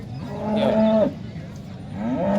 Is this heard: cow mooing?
yes